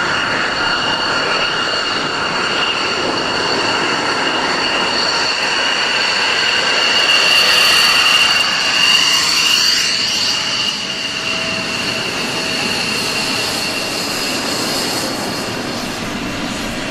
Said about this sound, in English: Back to the Royal International Air Tattoo. With this great F-16 display.